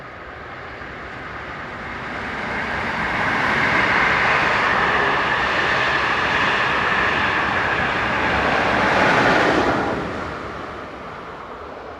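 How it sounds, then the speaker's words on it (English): A Class 420 electric train, number 11303, running as IR2018 on its return from Zurich, passes close by with a loud, steady rumble and wheel roar. The sound swells over several seconds and then eases away, with no voices. "Class 420 number 11303 returns from Zurich with train IR2018 for"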